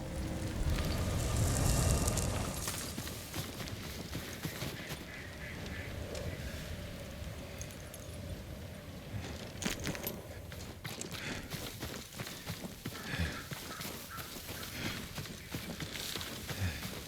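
In the video game Ghost of Tsushima, a horse's hooves clip-clop in an irregular, faint patter beneath a dense ambient wash of wind and environmental noise.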